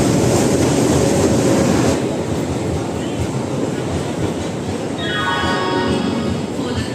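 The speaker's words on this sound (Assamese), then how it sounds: "ফাইনেলি ট্ৰেইনখন আহি পালে" A passenger train from Guwahati rolls into a station platform with a steady, loud rumble of rail noise; a thin, high squeal rises near the end as it slows.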